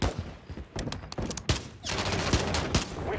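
Rapid bursts of gunfire from the video game Modern Warfare III, loud sharp cracks in quick clusters with a dense rattling fusillade building in the second half, no talking.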